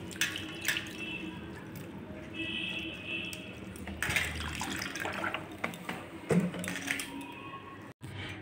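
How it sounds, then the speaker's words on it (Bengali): Sago pearls are washed in clean water, with splashing, swishing and trickling from handling the wet pearls in a bowl under a tap, broken by a few sharper clinks and pauses. "এই সাবুটা আমি এখন ভালো করে 3-4 বার করে পরিষ্কার জল দিয়ে ধুয়ে নেব।"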